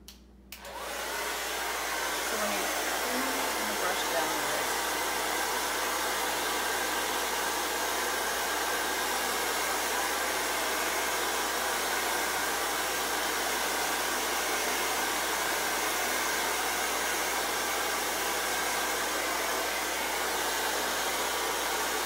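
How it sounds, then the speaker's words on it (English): A hair dryer blows steadily on a wig, switching on abruptly and then holding a loud, continuous broadband whoosh with no pauses. "Sometimes that is how I start blow drying my wigs."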